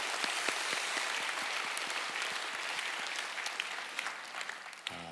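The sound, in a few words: congregation applause of thanks and glory to God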